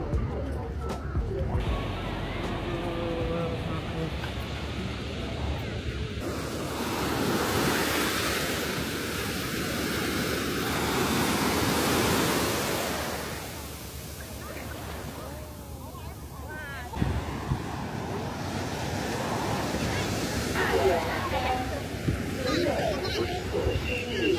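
Ocean waves wash steadily onto the beach at Putuoshan island in Zhejiang, a continuous broad roar of surf with wind buffeting the microphone, swelling and easing over time while a voice talks at times.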